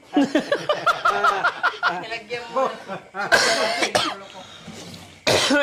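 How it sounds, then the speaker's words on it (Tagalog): Someone coughs several times amid close voices and chuckling, ending with a harsh, loud cough burst. "Inuubo na ako"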